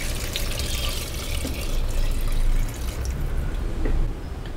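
Water pours steadily into a pressure cooker for prawn biryani, a continuous close splashing and rushing stream that swells and dips slightly over a few seconds.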